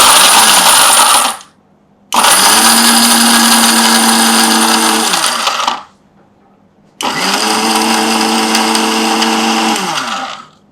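Mixer grinder blitzing pistachios into praline paste, running in three loud, steady whirring bursts with short silent gaps between them, close up and with no talking.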